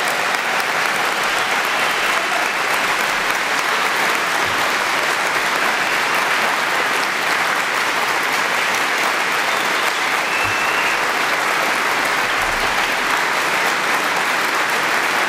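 A political audience at a Wake County GOP event applauds a speech with sustained, dense crowd clapping, steady and loud throughout with no pauses.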